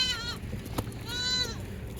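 A Kathiawadi goat bleats twice in quick succession at a farm, the wavering cries fairly close against low background murmur.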